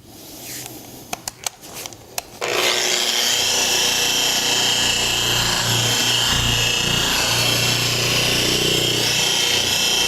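SPTA Mini dual action polisher running at speed 1 on a bumper lip trim panel: a few handling knocks, then a steady, loud motor whir and buzz that holds constant.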